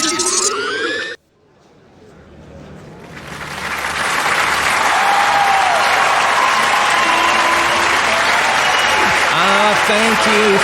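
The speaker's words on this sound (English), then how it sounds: "Thank you so much for the applause." Loud audience applause swells after a brief pause and holds as a dense, sustained wash of clapping from a large crowd at a lecture, with a few faint tonal sounds over it.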